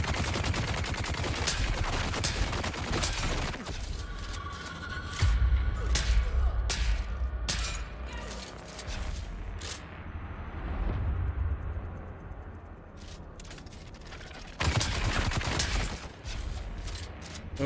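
Gunfire in the video game Dune, rapid cracking shots in bursts, loud and close, with pauses between volleys and occasional talk.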